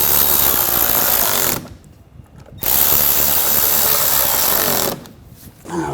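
A power tool whirs loudly as it drives screws into the washer reservoir of a 2013-2019 Ford Escape, two sustained bursts separated by brief quiet gaps.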